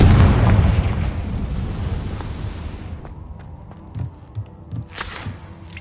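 Confringo blasting spell explosions in a wizard video game: a loud, rumbling blast fills the opening seconds and fades into a low roar, followed by a few shorter muffled thumps near the end.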